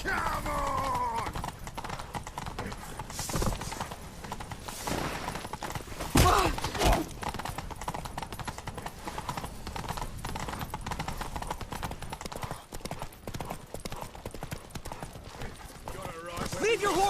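Horse hooves in The Witcher 3: Wild Hunt clip-clop in a rapid galloping rhythm throughout, with shouting voices and occasional crashes mixed in.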